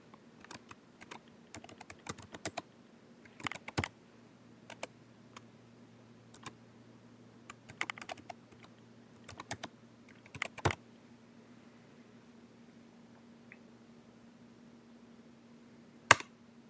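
Someone enters a root password on a computer keyboard: scattered quiet key clicks in short bursts with pauses, then a final sharper keystroke, all set over a low steady electrical hum.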